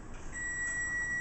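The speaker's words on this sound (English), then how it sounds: "There's my timer." Kitchen timer going off after pizza baking, a steady high electronic beep tone sounding alone over a faint background hiss for about a second.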